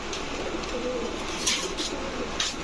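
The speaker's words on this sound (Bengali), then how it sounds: "দেখেন অনেক বড় বড় কবুতর।" Three pairs of large red-necked pigeons coo softly and continuously at close range, with a few brief rustles and flutters over the low murmuring calls.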